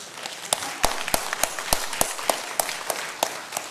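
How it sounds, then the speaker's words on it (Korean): A church congregation claps together for Joseph during a sermon, a dozen sharp, loosely synchronized claps in a steady rhythm, close and fairly loud against a quiet room. "요셉에게 한번 박수 한번 칩시다"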